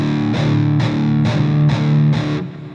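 An electric guitar plays through an amp with heavy distortion, giving four chunky, sustained chords at a steady pace, loud and close with no talking.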